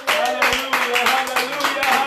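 A church congregation claps along in a quick, even rhythm during a worship service, the sharp hand claps sounding under a leader's voice.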